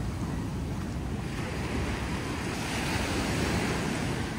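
Ocean surf rolls onto a wide resort beach, a continuous broad wash of waves with wind buffeting the microphone, steady and fairly loud with no voices.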